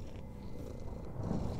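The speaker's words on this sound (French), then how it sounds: "Oh le ronron!" A cat purring close up, a low continuous rumble that swells slightly and runs steadily throughout.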